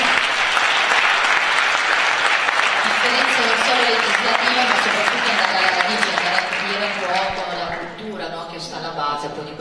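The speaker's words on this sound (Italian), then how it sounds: "Quindi parte anche un applauso." An awards-event audience breaks into loud, sustained clapping from many hands, a dense wash that begins to thin toward the end, with a voice and some light laughter audible over it.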